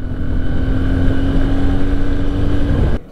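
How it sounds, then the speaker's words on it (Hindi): Motorbike riding along a road toward a waterfall, a steady droning engine hum buried in heavy wind rush, loud and continuous until it drops away abruptly near the end. "मेरा बाइक जा रहा है अभी"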